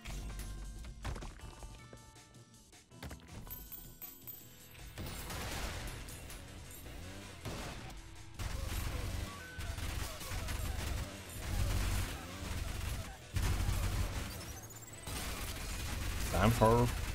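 A gun fires split shots in the fast shooter game Ultrakill, with bursts of sharp, clattering shots and mechanical clanks in a dense, busy mix of game noise that swells louder toward the end.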